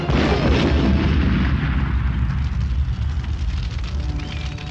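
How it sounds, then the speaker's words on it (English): A grenade blast in the film Alien Space Avenger, a loud rumbling explosion with crackling debris that fills the clip and slowly decays. "Rex blows up Karen with a grenade."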